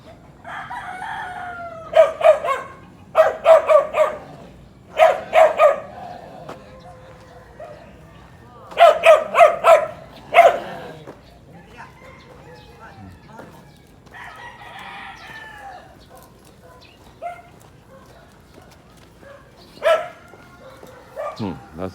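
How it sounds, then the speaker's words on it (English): Dogs in the Philippines bark in sharp clustered bursts, fairly close and loud, with quieter gaps between volleys and a rooster-like crowing mixed in. "usually when they're barking at themselves, they're not going to come after us"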